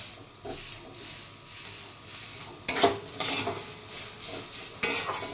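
Banana stem frying in oil in a pan, a low steady sizzle with stirring scrapes and two sharper clatters of a utensil against the pan, no talking.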